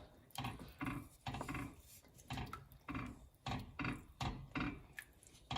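Yellow split pea dal stirred in a pot, quiet rhythmic scraping strokes repeating about twice a second, close up and alone.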